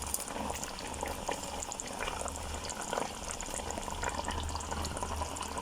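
A pot of trotters and sugar beans curry simmers and bubbles steadily, a continuous close bubbling hiss with a low hum underneath, no voices.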